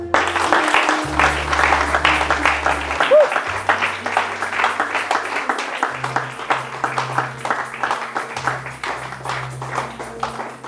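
Church congregation clapping in rhythm during a worship service, steady dense applause throughout with sustained music or organ tones underneath.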